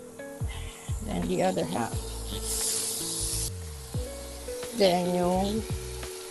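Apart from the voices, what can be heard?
hanger steak sizzling in the pan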